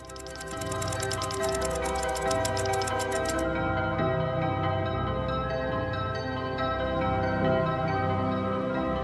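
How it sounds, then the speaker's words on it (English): The time tower bell rings in the video game Puzzles for Clef as a sustained, resonant chime, with a quick ticking flourish at first and the tone then ringing on clearly. "Activate the bell of the time tower"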